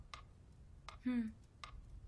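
A quiet clock ticks in a hushed room with about three evenly spaced, soft ticks. A voice speaks briefly in the middle between the ticks.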